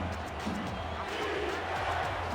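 A stadium crowd at a football game stands and cheers on third down, a broad, continuous roar that holds throughout the short clip at moderate level, with commentary voices mixed in beneath it.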